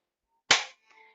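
A single sharp hand clap rings out in a quiet room, followed by a faint tonal trace, as part of a children's music counting game.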